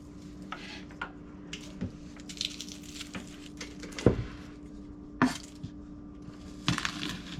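A knife chops onion on a cutting board for mutton curry, with sparse, irregular thuds, a few sharper knocks standing out, close by in a quiet kitchen.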